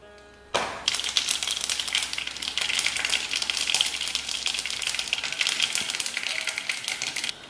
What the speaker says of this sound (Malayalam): കടുക് പൊട്ടുണ്ട്.